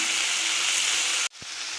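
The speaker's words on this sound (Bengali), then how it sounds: "আমি আরেকটু ভেজে নেব টমেটোটা যাতে গলে যায়" Tomatoes for a Bengali bhangan fish curry sizzle steadily in hot oil in a pan, a loud continuous frying hiss that cuts off abruptly near the end before a softer sizzle resumes.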